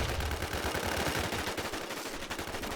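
Rapid bursts of gunfire in the online survival game H1Z1, loud and dense, continuous for a few seconds with no talk over it.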